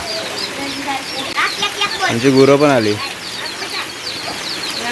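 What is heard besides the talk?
hen and chicks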